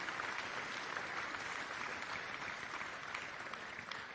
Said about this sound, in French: merci de les applaudir, bien sûr